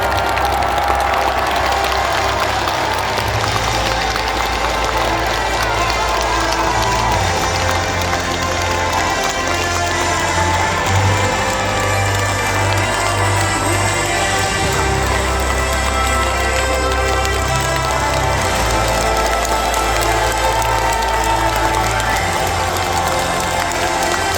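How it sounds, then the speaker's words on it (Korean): A large audience gives sustained, dense applause welcoming the president at the opening ceremony of the 103rd National Sports Festival in Ulsan, continuing steadily over a low droning hum. "울산 시민의 마음을 담아 뜨거운 환영의 박수를 부탁합니다."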